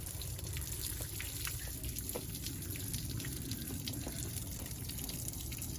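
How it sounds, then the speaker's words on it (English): Water is tipped out of a garden plant tray with drainage holes, a continuous soft splashing and trickling with scattered drips, steady and close throughout, no voices. "I'm dumping some water out of this tray."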